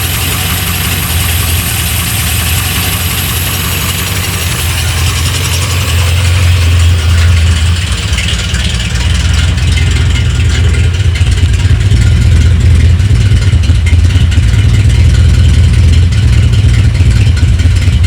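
Mogy engine idling steadily with a light, persistent mechanical ticking layered over a low rumble, growing slightly heavier partway through; no one speaks.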